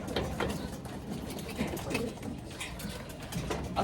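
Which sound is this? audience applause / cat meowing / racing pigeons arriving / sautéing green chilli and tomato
racing pigeons arriving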